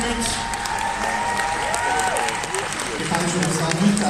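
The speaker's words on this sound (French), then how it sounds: "On peut applaudir encore une fois notre jury, s'il vous plaît." Audience applause at a cosplay final, clapping for the jury. Steady, dense clapping from a crowd, with a voice speaking over it.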